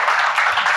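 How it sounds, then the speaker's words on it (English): An audience at a corporate event on AI-powered workforces claps in a short, loud, dense burst of applause for a speaker being welcomed onstage. "with a round of applause"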